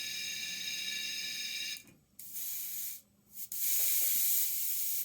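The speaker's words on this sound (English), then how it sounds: "I'm going to spray the color." A steady airbrush hiss sprays paint in three bursts, briefly cutting out twice between them, painting a yellow rose; close and fairly loud, with no voices.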